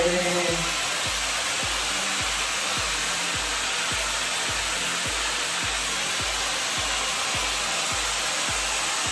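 A hair dryer fitted with a diffuser blows a loud, steady rushing hiss of air, with a low rhythmic pulsing underneath, close up and continuous.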